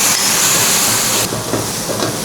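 Spices tipped into hot oil for a Katla fish head curry, a loud broadband hiss that drops sharply midway into a softer, steadier sizzle, close up with no talking.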